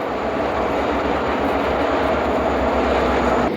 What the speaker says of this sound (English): Now we're taking the train, pulling up towards East Scranton to get helpers on the head end